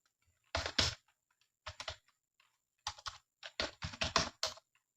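Typing on a computer keyboard, close and crisp, with short bursts of rapid key clicks separated by brief pauses in an otherwise quiet room.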